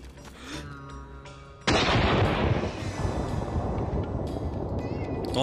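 Gunfire in the video game DayZ on a Takistan mod map: after a quiet moment with low hum, a sudden loud burst of shots erupts and a dense, roaring crackle of firing continues for several seconds.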